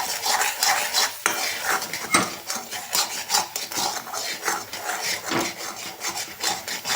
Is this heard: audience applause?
no